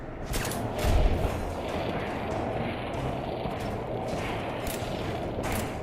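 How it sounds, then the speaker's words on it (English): Gunfire in Fallout 4 striking a wall, a dense crackling burst of shots with a heavier thump near the start, continuing steadily with no talk. "Oh, I'm just shooting the wall now."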